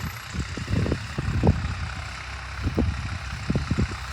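Tractor engine running in a farm field, a low, uneven rumble with bursts of knocking pulses that rise and fall, moderately close with a faint background hiss.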